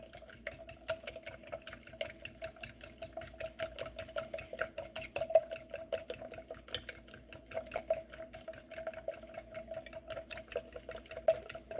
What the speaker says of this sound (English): And you just beat the eggs up, all up.